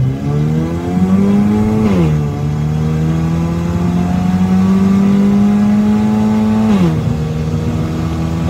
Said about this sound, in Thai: ผมอาจจะลองได้แค่นิดๆหน่อยๆพอให้รู้เรื่องของอัตราเร่งนะครับ